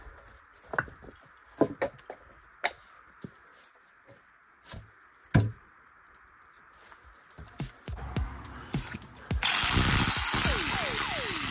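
A power drill bores holes for chemical anchoring, preceded by scattered clicks and handling knocks, then a sustained, loud drilling burst near the end.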